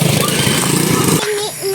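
A motorcycle rumbles along a road near a school, its broadband engine drone loud and close for over a second before cutting away, with a person talking over it.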